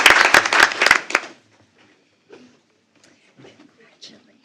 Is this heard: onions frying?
no